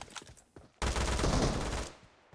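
PUBG Mobile gunfire: a few sharp single cracks, then a dense, loud burst of rapid automatic fire lasting about a second, heard close and alone.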